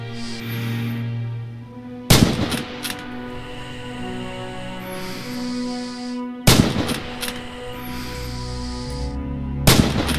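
A scoped Kar 98 bolt-action sniper rifle in Red Orchestra 2 fires three sharp, loud single shots spaced a few seconds apart, each a close, cracking report that rings out and fades over a steady low ambient hum.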